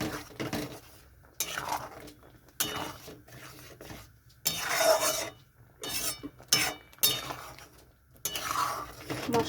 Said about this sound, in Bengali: মশলাটা কষানোর জন্য এখানে জলটা দিয়ে এরকমভাবে ভালো করে কষাতে হবে।